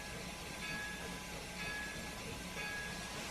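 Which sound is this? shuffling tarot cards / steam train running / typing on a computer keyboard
steam train running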